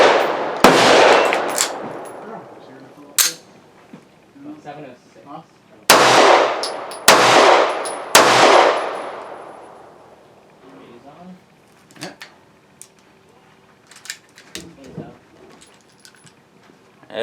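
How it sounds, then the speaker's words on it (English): Firestar Model 43 9mm pistol fired at the range: loud, sharp gunshots, one early shot, then a quick group of three, followed by quieter clanks and handling sounds of the gun. "let's take it out the range and see how it shoots. So today we're looking at the Firestar Model 43 in 9mm"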